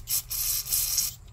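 Aerosol can spraying onto mini chopper engine parts in short hissing bursts, close and steady for just over a second.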